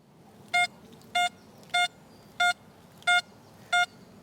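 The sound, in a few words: XP Deus metal detector target signal at reactivity 0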